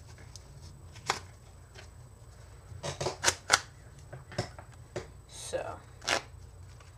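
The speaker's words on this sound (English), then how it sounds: "I like to do a riffle shuffle." A deck of playing cards is riffle shuffled up close, with a quick burst of crisp flicking and snapping followed by softer card handling, while someone talks quietly.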